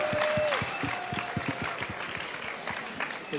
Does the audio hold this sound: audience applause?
yes